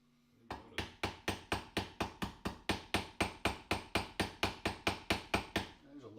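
A hammer strikes rivets on armor gorgets, about twenty sharp metallic blows close up in a quick, even rhythm with a brief ring after each hit.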